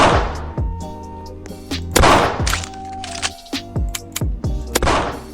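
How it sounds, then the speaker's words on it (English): A starter gun in Roblox's Pixel Gun 3D fires repeated punchy shots at a moderate, even pace, roughly a dozen cracks in quick succession over layered game sounds. "I'll just show you a demo of how the gun works."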